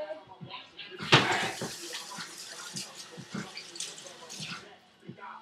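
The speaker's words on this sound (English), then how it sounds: "We're going to rinse our hands real quick." Hands are rinsed under a kitchen tap while guacamole is being made, a short splashing run of water with a sharp clatter near the start and a voice speaking over it.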